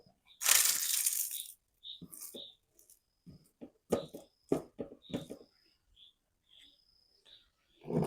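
Papadam is broken by hand for a meal with puttu: one long crisp crackle, then a run of short, sharp snapping crunches close by, with crickets chirping faintly in the background.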